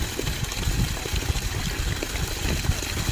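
A DC motor borewell pump pushing a full 2-inch stream of water from a 400-foot bore, heard as a steady rushing flow under a low continuous motor rumble.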